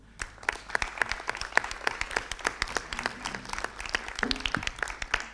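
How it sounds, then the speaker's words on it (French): A crowd claps steadily for several seconds at a municipal council meeting in Grigny, a dense patter of many hands with no voices. "Et je pense que l'on peut l'applaudir."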